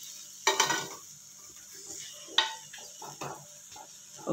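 Coriander leaves stirred in a hot pan with the stove off, for onion tomato chutney: a few brisk scraping strokes against the pan with a soft residual sizzle, close and moderately quiet.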